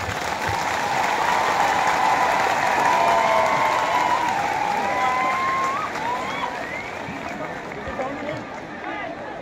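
Loud, sustained applause and cheering from a large audience at a live stage event, steady dense clapping with crowd noise filling the whole stretch and easing slightly toward the end.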